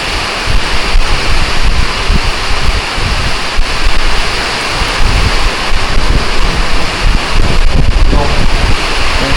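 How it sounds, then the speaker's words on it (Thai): Strong wind roars through a heavy rainstorm, a loud, dense, continuous rush with gusty surges and buffeting against the microphone, unbroken throughout. "ฟังเสียงลมนี่พี่น้อง"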